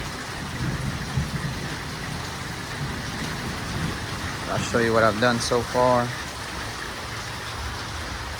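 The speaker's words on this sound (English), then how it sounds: "It started raining on me." Rain falls steadily outdoors where a 1961 Impala's suspension is being worked on, a constant close patter, with someone speaking briefly over it near the end.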